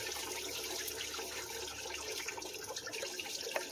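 Coolant streams steadily out of the thermostat housing of a 7.3 Powerstroke diesel, a continuous faint splashing trickle of liquid heard up close, without any talking.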